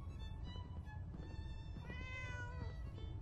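A cat meows repeatedly in Fallout 4, its calls clear and close over a steady bed of game ambience and music, with no talking.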